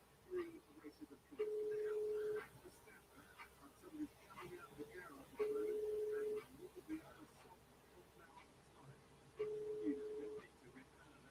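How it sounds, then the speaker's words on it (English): A telephone rings out while the caller waits for an answer, with three long steady ring tones spaced evenly apart, faint and surrounded by soft background chatter and noise. "Come on, answer the phone."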